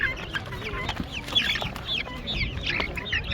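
Kazakh chickens cluck in short, repeated bursts at a poultry market in Kyzylorda, several birds close by, with a soft farmyard murmur underneath and no talking.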